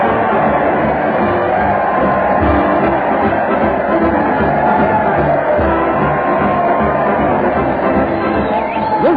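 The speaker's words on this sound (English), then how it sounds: "Listen to that crowd. They're cheering in the streets" A dense street crowd cheers and shouts continuously, loud and close throughout, with thin, band-limited old radio-show fidelity.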